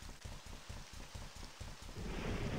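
Rain and wind outside a window in a video game, a steady wash of rainfall with rhythmic gusting pulses that thickens into heavier, louder rain toward the end.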